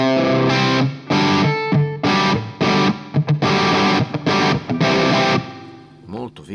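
Electric guitar through a plate reverb, captured with a Two Notes Torpedo Captor X, plays loud distorted chords and short phrases in bursts, with a wide, lingering reverb tail filling the gaps.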